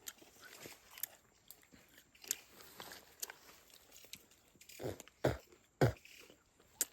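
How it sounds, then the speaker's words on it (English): Someone chews sugar cane, producing moist, irregular crunches and wet bites that grow louder toward the end, close to the microphone in a quiet outdoor setting in the Bolivian Amazon. "So we're gonna chew on the sugar cane, kind of like gum, and then you spit it out."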